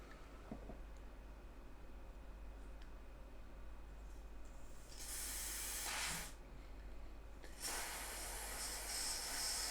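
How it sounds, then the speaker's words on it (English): An aerosol can of contact cleaner spraying in two strong hissing bursts, the first about a second long and the second longer and steadier, over a quiet room hum. "Let's try the contact cleaner"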